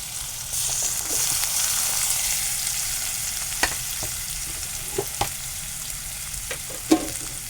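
Chopped onion and tomato hitting hot oil in a pan and frying with a bright, steady sizzle, punctuated by a few sharp spoon clicks and taps, close up with no talking.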